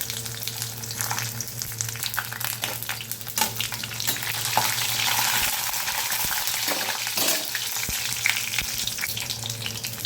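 Tempering seeds fry in hot oil before leafy greens are added, with a continuous crackling sizzle, steady and close, some brief stirring clatter and no voices.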